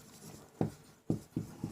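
A word is written by hand, four short scratchy strokes of pen or chalk, close but faint, spaced unevenly over a quiet background.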